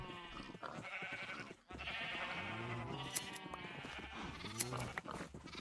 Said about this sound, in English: Do you have enough sheep here?